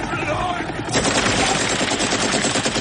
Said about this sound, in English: the Russians from the helicopter shoot up the water in hopes of killing him still